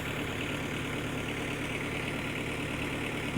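A farm tractor engine idles steadily in a garden, a continuous low mechanical rumble that holds an even level throughout with no voices.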